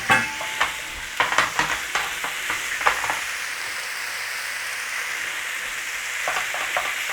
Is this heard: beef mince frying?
yes